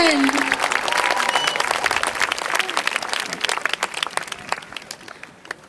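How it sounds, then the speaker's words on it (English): Audience at a high school graduation ceremony applauds the school band, loud sustained clapping from a large crowd that slowly thins out into scattered claps. "Please give another round of applause for the DPMHS band."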